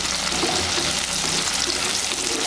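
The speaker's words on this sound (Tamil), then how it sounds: "வெங்காயம் பார்த்திங்கன்னா நல்லா வந்து உதிரியாக நல்லா பொரிஞ்சு வருது" Onions fry in hot oil for nethili karuvadu, an anchovy dry fish gravy, giving a dense, steady sizzle and crackle that stays loud and close throughout, with no voices.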